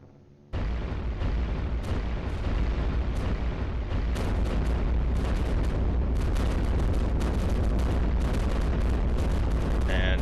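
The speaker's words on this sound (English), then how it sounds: "There's the bombers." Bombers dropping bombs in iBomber Defense, a dense barrage of loud booming explosions that starts abruptly and rolls on continuously, with sharp blasts repeatedly cutting through the heavy low rumble.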